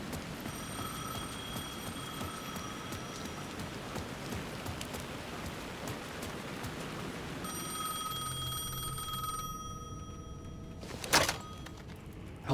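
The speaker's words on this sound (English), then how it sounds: "The phone was ringing again." A telephone rings in Alan Wake 2, steady repeated bell tones over a soft rain-like background hiss, pausing midway before ringing again, followed by a sharp loud burst near the end.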